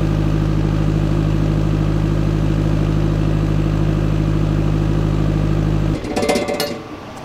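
A 21 kVA three-phase water-cooled FGED21 generator drones loudly and steadily, then cuts off near the end with a brief rattling clatter as the engine winds down to a quieter hush.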